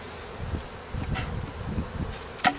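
Honey bees buzzing inside the upper portion of a beehive removal box: a low, steady droning hum with a few brief louder flickers, close and alone.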